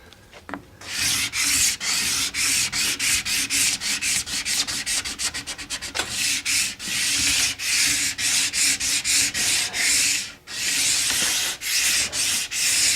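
A plastic scraper drags in steady, rasping strokes across a waxed ski, each pass scratchy and close, repeating in a regular rhythm with brief pauses between.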